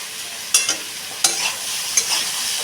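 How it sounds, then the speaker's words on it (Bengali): Vegetables being stir-fried with salt and chili powder, three sharp scraping stirs against the pan at a steady pace over a low, continuous sizzle. "লবণ আর লঙ্কার সাথে সবজিটাকে আবার ভালো করে কষিয়ে নেব"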